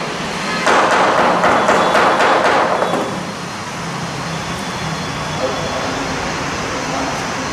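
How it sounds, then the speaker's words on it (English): A mallet flattens sheet metal, giving a quick run of rapid close taps for a couple of seconds. Steady workshop or traffic-like background noise continues afterward. "with the help of a mallet is flattening the sheet metal"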